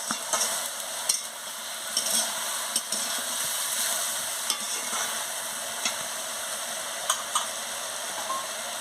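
Potato, eggplant and onion curry with spices being stirred in a sizzling pan, a steady frying hiss with repeated soft scraping strokes and spatula taps at irregular intervals, close and fairly quiet.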